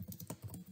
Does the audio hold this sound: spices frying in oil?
no